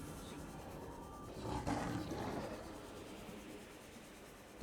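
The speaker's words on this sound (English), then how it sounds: "That dude just made a lion sound." A lion-like roar from a creature in an SCP and Subnautica style game, a single moderate swell rising mid-clip over a steady low rumble of in-game ambience, with no talking.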